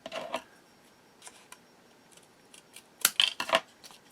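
Scissors snip through paper while trimming bulk on a handmade bird-watcher journal, a few soft cuts early then a quick cluster of sharper, louder snips near the end, close and with no talking.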